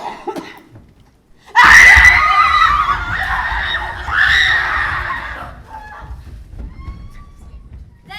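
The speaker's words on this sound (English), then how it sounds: "I'll scream." A loud, high scream bursts out abruptly and holds for several seconds with a second surge, voiced by a performer in a school stage play of a fairy tale about a wolf and a riding hood.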